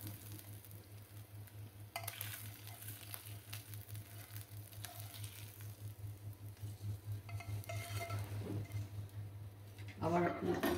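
Fried aair fish sizzles in hot oil as the pieces are lifted out of the pan. A soft, steady crackle and low hum build up, then sharper bursts of frying and scraping follow near the end.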